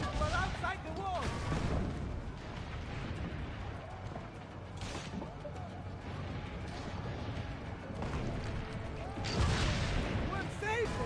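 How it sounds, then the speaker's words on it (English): Cannon fire in Assassin's Creed Brotherhood, repeated heavy booms amid a dense battle din of crashes and clatter, with voices shouting over the combat. "Forget the cannon!"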